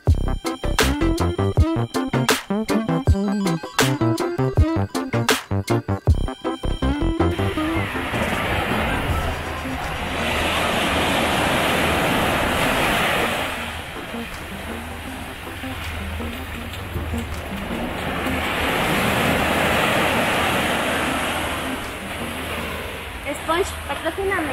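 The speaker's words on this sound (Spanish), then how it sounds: "nosotros quisimos venir a conocer la playa y con ustedes el sonido del mar" Gentle sea waves wash onto a calm beach at Bahías de Huatulco. After a brief burst of other sounds, two soft, rushing swells rise and fade.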